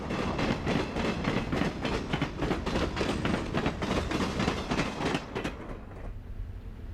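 The westbound City of Los Angeles passenger train, train number 103, with a Milwaukee Road Superdome car on the rear, rolls past close by through Wasatch, Utah, its wheels beating a steady rhythmic clatter over the rail joints before fading abruptly.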